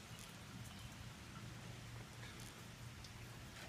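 Rain falling outside on a farm, seen from the front porch, hissing as a steady soft patter of drops with no voices.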